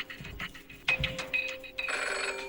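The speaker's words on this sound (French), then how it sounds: "Le banquier qui téléphone." An electronic telephone ring from a game show, sounding as the banker calls in, with a bright repeating tone that steps up and then holds steady at the end, heard clearly without speech.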